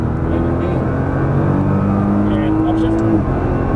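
A Nissan GT-R engine accelerates hard on the Exotics Racing track in Las Vegas, a loud, steady droning roar with a tone that climbs toward an upshift, a muffled voice mixed in.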